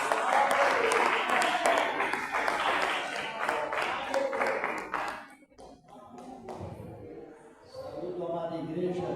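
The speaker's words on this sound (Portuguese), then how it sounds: "E as palmas bem fortes para Jesus" A church congregation claps loudly for Jesus during a worship service, dense applause for about five seconds that fades out, followed by someone speaking.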